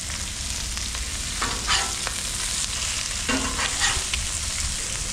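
Jumbo lobster tails fry in a hot pan just after being flipped, giving a dense, steady sizzle and crackle that carries on without pause, close and clear.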